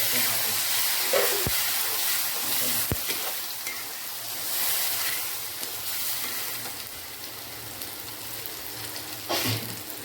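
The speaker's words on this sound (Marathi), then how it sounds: "त्यानंतर त्यामध्ये टोमॅटो पण बघा टाकलं" Tomatoes frying in a pan for a village-style goat mutton curry give a steady, close sizzle and crackle, with a few sharp clicks of a spoon or stirring against the pot.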